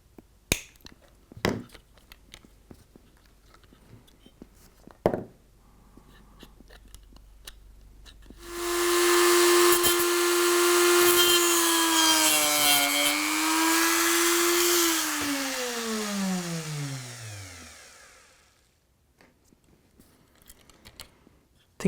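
Small rotary cutting disc chopping away part of a model locomotive, a high whining grind lasting several seconds that drops in pitch as it spins down, with light clicks and taps before it.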